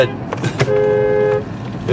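A car horn honks once, a loud, close tone held for under a second, with brief traffic and street noise around it.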